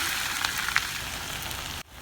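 Onions with cumin seeds fry steadily in hot oil for an egg keema masala, a continuous close, even sizzle with a couple of brighter crackles and a brief dip near the end, no voices.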